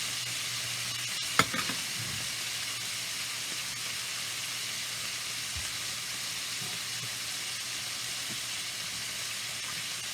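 Beef rolls frying in rendered bacon fat give a steady close sizzle that holds throughout, with a single faint clink near the start.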